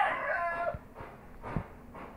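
A chicken gives a short burst of harmonic clucking, then a few softer, sparse clucks and rustles close by.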